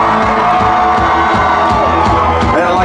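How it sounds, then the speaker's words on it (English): Concert crowd at a rock show in Johnstown, Pennsylvania screaming and cheering loudly and continuously, a dense wall of whoops and shouts close up. "Everybody scream like sex banshees when I say,"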